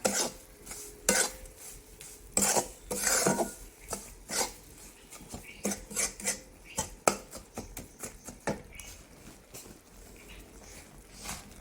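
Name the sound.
flour being roasted and stirred in ghee in a thick pot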